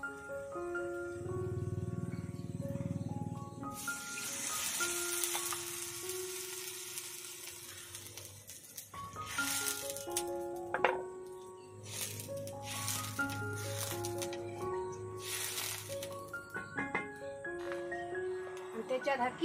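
Water poured into semolina in a hot pan sets off a sharp sizzle and bubbling hiss, close and loud, followed by stirring and clinking under a voice talking, with background music.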